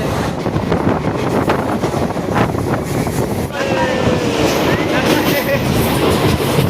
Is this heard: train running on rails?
yes